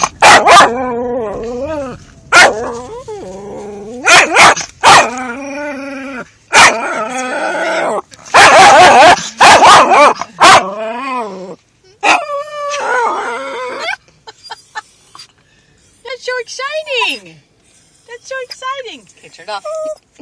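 A dog barks repeatedly in sharp bursts inside a car, with some howling yips mixed in, while people talk nearby in the enclosed space.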